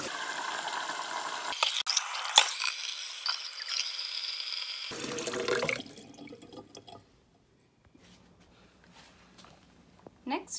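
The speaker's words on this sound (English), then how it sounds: "we're going to run cold water on the eggs." Cold tap water runs over hard-boiled eggs in a kitchen, a close splashing stream with clinks and drips, followed by quieter trickling and scattered drops; a person talks over the first part.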